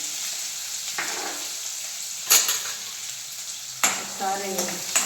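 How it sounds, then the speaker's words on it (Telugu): Green chilies and onions fry in a pan for a gongura prawn curry, a steady close sizzle broken by a few louder scraping stirs near the start and toward the end. "బాగా కలిపి బాగా ఫ్రై అవ్వాలి"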